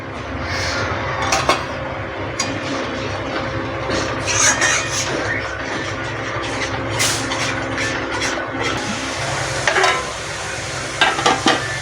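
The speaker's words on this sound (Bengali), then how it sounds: "এটাকে ভালো করে আমি কষাবো তেল ছাড়া অবধি" Shrimp in a yogurt masala (doi chingri) sautés in a pan with a steady, close sizzle throughout, broken by occasional scrapes and clinks of stirring.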